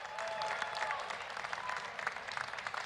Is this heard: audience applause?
yes